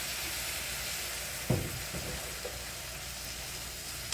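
Milk gravy for biscuits and gravy cooks in a pan, giving off a soft, steady sizzle and bubbling, with a few faint utensil taps.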